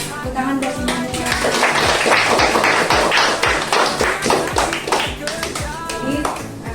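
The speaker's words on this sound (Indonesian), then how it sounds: "Tepuk tangan buat Manuel." A class claps together in a classroom, scattered rhythmic claps and taps rising into brief applause with voices mixed in.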